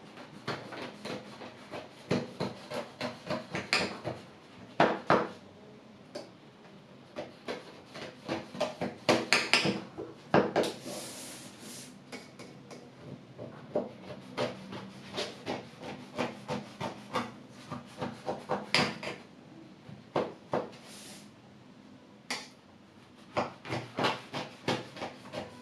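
A knife cuts through a buttered filo pastry dessert with sesame in a series of close, quiet scraping and crunching strokes, some rhythmic and some uneven, with no talking.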